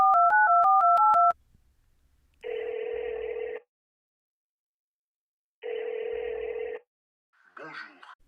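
A telephone being used to call a number: quick dialing tones in a stepped pattern, then two long steady ringback tones separated by silence, followed by a voice answering at the end.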